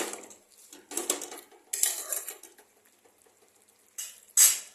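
Small fish being stirred in a pan for a chilli fish curry (choto macher jhal), with bursts of metal spoon scraping and clinking against the pan separated by quiet pauses, close and fairly soft.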